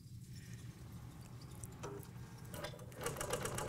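A Bernina long arm quilting machine stitches steadily, a fast even mechanical whir with faint ticking that grows slightly louder toward the end, with no talking.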